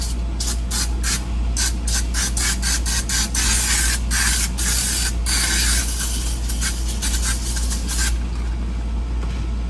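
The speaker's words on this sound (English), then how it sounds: "And then I'll spray some of this stuff on here." Repeated short bursts of spray hissing from a can onto a 1980 Pontiac Turbo Trans Am interior part, close and loud, in quick uneven pulses over a steady low background hum.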